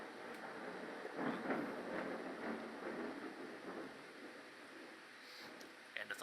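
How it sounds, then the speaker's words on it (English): Thunder rumbles in a low, rolling wash with rain-like hiss, distant and moderately quiet, sustained for several seconds with a slight swell in the middle. "And the thunder rolls."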